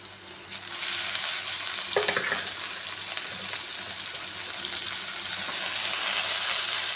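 Amaranth greens (arai keerai) dropped into a sautéed mix in a pan, a loud wet sizzle that bursts up after a brief thump and then hisses steadily and close, with light stirring scrapes, no voices.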